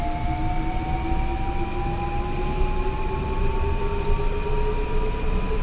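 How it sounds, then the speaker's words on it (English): An inbound M8 commuter train rolls past steadily on the New York to Stamford line in Train Sim World 6, a constant rumbling roar topped by sustained whining motor tones that slowly bend in pitch, with no talk. "There goes an inbound M8 train."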